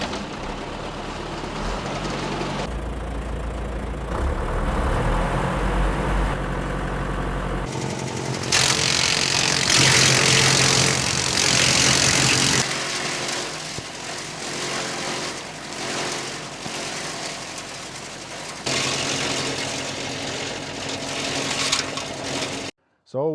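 A tractor engine revs up to about 1500 RPM while driving a PTO wood chipper. The loud, continuous mechanical roar shifts in pitch and intensity as the load changes, and speech can be heard over it.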